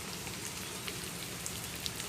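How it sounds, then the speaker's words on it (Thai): Steady rain falls on an overcast day at a riverside fishing spot in Thailand, a dense even hiss of drops on surfaces with a few louder nearby patters, and no talk. "ฝนตก"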